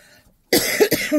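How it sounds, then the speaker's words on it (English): A single sharp cough bursts out after a brief silence, close and loud, followed by a couple of rougher throaty coughs. "I do apologise for the coughing and sneezing."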